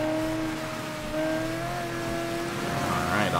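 A car floors it on a rain-soaked road in the Mafia III game, engine droning steadily with a rising pitch as it accelerates hard, loud and close, with a brief tire squeal toward the end.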